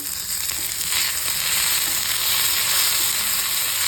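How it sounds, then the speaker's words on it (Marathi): Chopped onion fries in oil in a pan, a close, steady sizzling hiss with faint stirring scrapes throughout and no voices. "आता कांदा टाकायचा, थोडं तेल ओतायचं कांद्याला पण."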